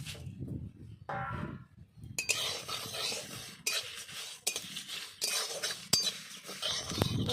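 Dry spices, chillies, fenugreek and fennel seeds, being roasted and stirred in a dry wok, giving repeated scraping and clinking strokes of a utensil against metal, close and fairly loud, with no one talking.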